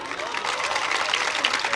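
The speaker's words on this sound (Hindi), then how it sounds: "एक बार पसंद आ जाए तो मुझे ताली बजा के बता दें।" An audience at an Urdu poetry mushaira in Maharashtra breaks into sustained applause, a dense wash of many hands clapping with a few scattered cheers, loud and continuous throughout.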